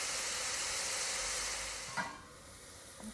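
Faint, steady sizzling hiss of onions sautéing in a pan, quieting partway through, with a soft scrape of stirring.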